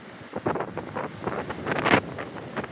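Night wind blows across Digha beach, buffeting the microphone in loud, rough gusts that swell and ease with no voices.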